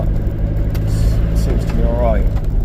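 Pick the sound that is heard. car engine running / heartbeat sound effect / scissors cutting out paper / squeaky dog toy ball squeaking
car engine running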